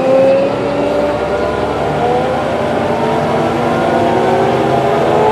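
A big Challenger tractor's engine runs in an open field, a loud continuous low rumble with a steady drone and slowly shifting tone throughout.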